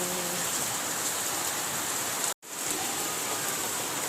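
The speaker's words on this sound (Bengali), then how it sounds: "বিশাল বৃষ্টি হলো বন্ধুরা, শিলাবৃষ্টি একদম।" Heavy rain mixed with hail pours down in a dense, constant roar of drumming on surfaces, broken only by one brief dropout near the middle.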